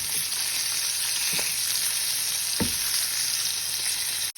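Crucian carp sizzles hard in a frying pan, a loud, dense, continuous hiss close up, with a couple of brief scraping knocks as the fish is turned over.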